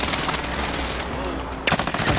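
Automatic gunfire from a firefight in Call of Duty: Modern Warfare, a steady stream of rapid shots running under the game's mix, with a fresh sharp burst near the end.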